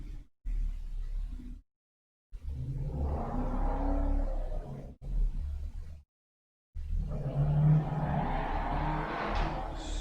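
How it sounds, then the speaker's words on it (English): A car passes by outside, a low rumbling swell that rises and fades over several seconds, heard alone with brief gaps of silence. "Sorry about that if you heard the car."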